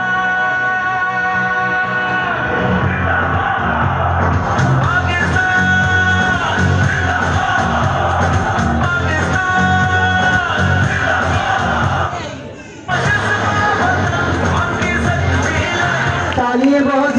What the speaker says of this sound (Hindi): शुक्रिया आपकी मोहब्बत भरी तालियों का।